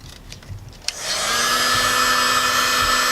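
A heat gun switches on and blows a loud, steady rushing whoosh close up while warming tint film on a Nissan Xterra taillight, after a brief click and quieter handling noise.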